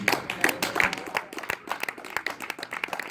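Clapping from a church congregation praising the Lord at a sermon, a rapid, uneven patter of many hands that is moderately loud and close, with a faint voice briefly underneath.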